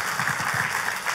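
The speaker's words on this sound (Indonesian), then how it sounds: "Kasih tepuk tangannya yang paling meriah buat Tuhan." Church congregation applauding during a sermon, a brief spell of dense, even clapping at moderate distance.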